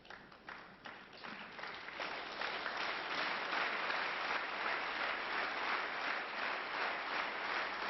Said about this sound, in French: Et le public qui applaudit comme à balle